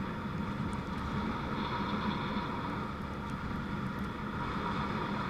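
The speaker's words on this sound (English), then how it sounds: "Enjoy being on the motorcycle." Riding a 2024 Suzuki GSX-8S motorcycle on the road, with a steady engine drone blended into heavy, continuous wind rush over the microphone and no talk.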